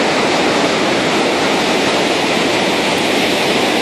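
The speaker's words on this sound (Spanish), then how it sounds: "las compuertas están abiertas." Water rushing through the open floodgates of the Caroní River at Puerto Ordaz, Venezuela, a steady, loud, broadband roar that stays continuous and unbroken throughout, with no voices.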